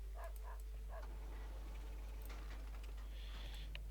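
Kyle, a hungry dog in World of Warcraft's Mulgore, gives a few short yips and barks early on, followed by a softer whine, heard over a steady low game hum with no talking.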